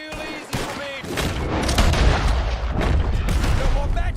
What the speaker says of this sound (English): If you can hear me, shoot some of these O'Driscolls.